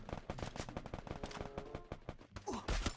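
Rapid bursts of automatic gunfire from the Free Fire MAX battle game crackle in quick, dense volleys close by, with a few sharper louder shots near the end.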